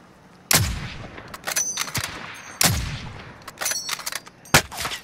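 Three sharp, loud rifle shots in a sniper video game fire a couple of seconds apart, each with an echoing tail, while fainter clanks and scattered distant shots fill the gaps between them.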